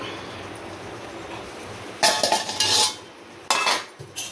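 Metallic clattering of a pot lid being set down on a pot of gooseberry rasam, a clanking burst followed after a pause by another short clatter, close and fairly loud.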